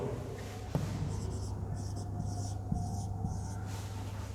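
Pen writing on paper while an accounting trial balance is filled in, with scratchy strokes in short bursts, a couple of soft taps and a steady low hum underneath.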